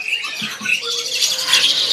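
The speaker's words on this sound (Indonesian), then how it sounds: "Terus juga ada yang namanya burung jalak, jalak putih." A young white starling (jalak putih) at a bird sale gives harsh, rasping squawks and chirps in quick succession, close and loud.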